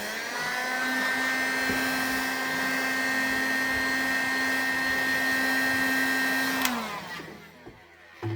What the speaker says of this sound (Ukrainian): нам залишається просто взяти фен, нагріти і притиснути нашу основну устілочку донизу